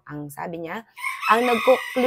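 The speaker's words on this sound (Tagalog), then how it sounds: "pasensya na po sa manok" A chicken clucks and crows loudly nearby, cutting into a person speaking indoors; the bird's calls overlap and alternate with the talking.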